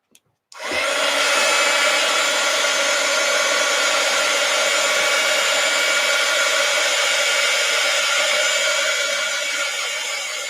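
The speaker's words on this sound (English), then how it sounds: "Let's see what happens if I heat gun this." A heat gun blows steadily onto a painting that is not yet dry, a loud, continuous airy roar that starts after a brief click and holds for about ten seconds with no talking.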